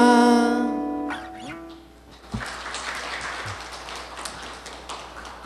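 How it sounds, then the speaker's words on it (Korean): An audience claps after a song at a book concert. A sustained sound of many hands clapping fills the room and follows a fading musical tone, steady and fairly close, with a few louder taps. "열화와 같은 박수와 너무 감사드립니다"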